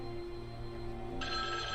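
A telephone rings in Halloween: The Game, a steady electronic bell tone that brightens partway through and carries on alone at moderate level.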